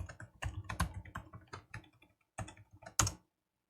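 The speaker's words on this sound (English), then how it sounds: "I'll type in my super secret password." Someone types a password at a computer keyboard in a quick run of crisp, close key clicks. A short pause falls near the middle before a final sharper keystroke, likely the Enter key.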